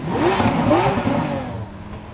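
A Lamborghini V12 revs hard toward a high-pitched scream of around 8,500 RPM, loud and close, its pitch sweeping up and down in a continuous roar with no talking over it.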